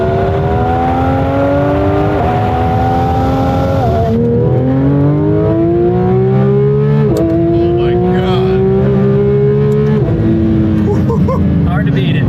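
A Porsche 992 GT3 RS with a PDK dual-clutch gearbox accelerates hard and loud, its engine note climbing repeatedly with several quick, seamless upshifts, while people talk over it inside the car.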